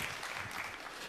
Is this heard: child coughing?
no